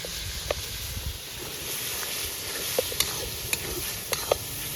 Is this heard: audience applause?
no